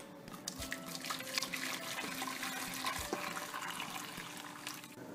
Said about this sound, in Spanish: Vamos a echar la gelatina de naranja poco a poco, sin dejar de mover.